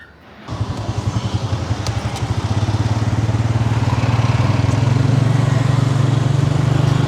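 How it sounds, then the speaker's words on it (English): Small tuk-tuk motor on a ride through Phnom Penh, Cambodia, its engine pulsing quickly and steadily close up after a brief quiet start, growing louder and holding a droning putter throughout with no talk. "We're going to take this tuk-tuk to Riverside and back."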